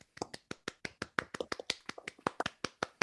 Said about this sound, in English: everybody clap for your teachers